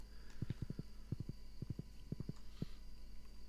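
Hollow hoof clip-clops of a horse in the video game Stardew Valley, in quick clusters of three or four beats, separated by short pauses, over a quiet steady hum.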